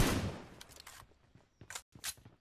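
Gunfire in PUBG, a burst of shots at the start followed by a few sharp, scattered reports and clicks, fairly faint and spaced apart.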